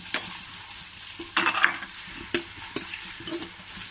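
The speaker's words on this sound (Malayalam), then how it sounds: "ഇഞ്ചിയും വെളുത്തുള്ളി ചതച്ച് വെച്ചത് ഇട്ട് കൊടുക്കാം." Crushed ginger and garlic go into a hot pan for chicken biryani, giving short bursts of sizzling and stirring scrapes at irregular intervals, fairly close and moderately loud, with no talking.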